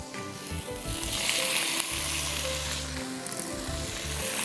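Chicken pieces with curry leaves and spices sizzle and fry loudly in a pan for coconut chicken pulao, a steady close hiss with occasional stirring scrapes and no talking.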